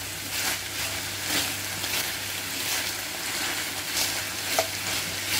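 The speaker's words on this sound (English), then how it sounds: "I'm now going to throw in my green pepper, the 141, and the yellow peppers. I'm going to give this a good stir" Lardons with green and yellow peppers fry in a pan, giving an even, steady sizzle with soft rhythmic stirring strokes and one small clink, close by with no voices.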